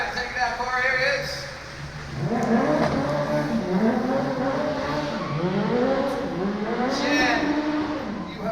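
Radio-controlled stunt car in the Lights, Motors, Action extreme stunt show at Disney's Hollywood Studios, revving and whining through repeated rising and falling accelerations over loud crowd and PA ambience, with voices mixed in.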